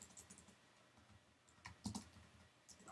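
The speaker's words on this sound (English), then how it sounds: "So we type those in like that, the keywords" Quiet typing on a computer keyboard while setting up email filters, a few soft scattered key clicks close by with brief pauses between short bursts, no talking.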